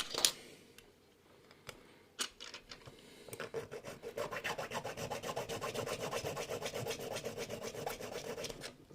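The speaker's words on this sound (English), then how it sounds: "And just take the burrs off there." A file rasps burrs off a metal chassis part for an SE Finecast LB&SCR I3 model locomotive kit. A few separate strokes come first, then a quick, steady back-and-forth scraping, close and fairly loud.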